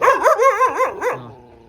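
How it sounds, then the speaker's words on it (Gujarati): A neighbour's dog in a village gives a quick close run of loud, howling-toned barks that trail off into quiet, with no talking over it. "આ કૂતરો અમારા પડોશમાં છે ને બહુ ભોકે જો"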